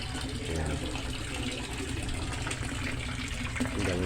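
Water pours steadily from a fish tank filter in an African catfish tank, a constant gushing, splashing rush heard close and continuous, with faint voices underneath.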